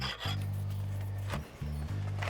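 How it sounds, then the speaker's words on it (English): Rubbing brick scraped over a freshly poured concrete curb, a steady close gritty rasp that briefly pauses and resumes, with a low sustained hum running beneath it. "Now I'll polish it up with a rub brick."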